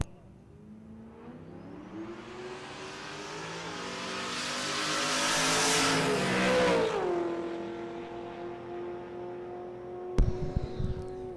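Drag race cars launch and accelerate down the strip at a dragway during a drag-and-drive race week, engines rising in a long roaring sweep that swells loud, then fades into steady droning, with a sharp burst of mechanical noise near the end.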